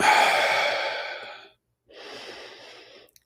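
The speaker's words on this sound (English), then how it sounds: "Take a couple of natural breaths in and out." Slow, natural breathing during a guided morning meditation: one long, soft airy exhale, a brief pause, then a quieter inhale or breath, close and alone with no talking.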